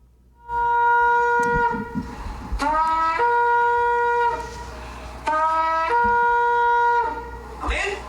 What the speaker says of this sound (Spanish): Vamos a escuchar un momento el sonido tequía